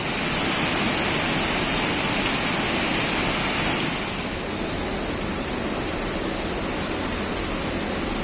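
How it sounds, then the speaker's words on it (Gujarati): The Hiran river in monsoon flood rushes at full force near Hirneshwar Mahadev temple in Sasan, a dense, continuous roar of water that stays loud and steady throughout, with no voices. "ખૂબ જ ફૂલ ફોર્સથી પાણી આવી રહ્યું છે હિરણ નદીનું"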